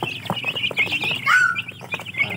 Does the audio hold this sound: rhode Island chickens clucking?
yes